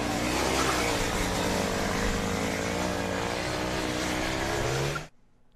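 A Formula SAE race car circling the skidpad, its engine a loud, continuous high-revving buzz held for about five seconds before cutting off abruptly into near silence.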